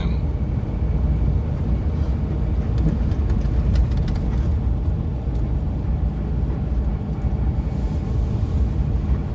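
1969 Porsche 912 driving through a neighborhood, a steady low engine rumble heard from inside with road and wind noise throughout, constant and moderately loud, without speech.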